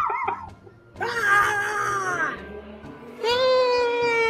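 Several people scream loudly together in two long, high-pitched bursts separated by a brief pause.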